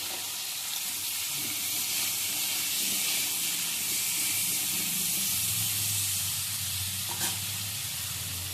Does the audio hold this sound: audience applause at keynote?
no